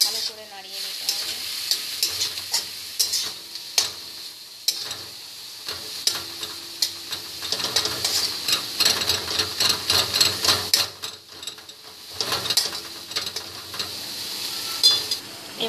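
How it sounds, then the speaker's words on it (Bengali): Bathua greens stirred in a pan with salt and turmeric, a steady scraping and sizzling frying sound with repeated clicks of the spoon against the pan, continuous and close throughout. "ভালো করে নাড়িয়ে নিতে হবে"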